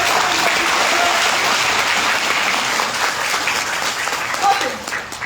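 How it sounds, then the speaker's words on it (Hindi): Loud, dense audience applause at a business seminar, sustained clapping that thins slightly toward the end, with no voices over it. "तो सारे स्पेशल लोग अपने लिए एक बार ताली बजाएंगे"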